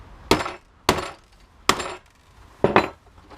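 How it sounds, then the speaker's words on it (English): Screwdriver work while taking apart a TV antenna for scrap: four sharp metallic clanks and rattles spaced about a second apart, close and loud, with quiet gaps between and no talking. "I guess I gotta use my screwdriver"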